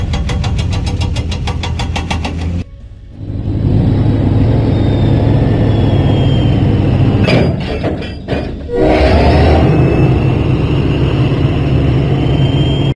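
Game train chugging steadily along a track in the Thomas and Friends Lift Load & Haul video game, loud and continuous with rumbling wheels, a brief dip in the middle, and no talking.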